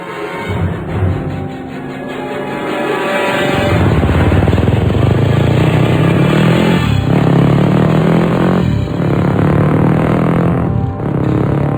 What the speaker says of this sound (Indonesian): terdengar suara motor dari jauh.